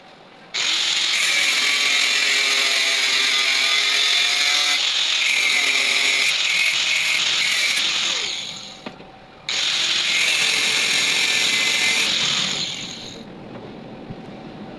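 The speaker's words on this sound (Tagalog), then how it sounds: "mas mainam po itong ganito paghawak ng grinder pag nagputol kayo ng bakal" An angle grinder cuts steel slotted angle bar: a loud, harsh whine runs steadily for about eight seconds, winds down, then a second long cut follows before the sound drops to a low idle.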